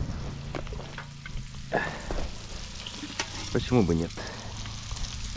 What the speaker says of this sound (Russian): Я еще в этом всем масле обжарю вареную картошку.